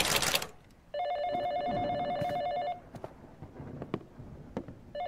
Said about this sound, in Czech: na druhé straně telefonu jenom má puštěnou nahrávku zvonění